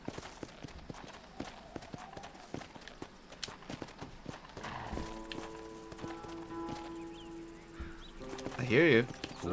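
Horse hooves clip-clop in the Western video game Red Dead Redemption, a faint irregular patter of steps mixed with game ambience, birds and a short whinny-like tone near the end.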